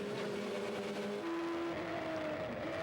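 Radical SR3 race cars battling at Donington Park, their engines whining at high pitch in a steady, distant drone with rising and shifting engine tones as they pass.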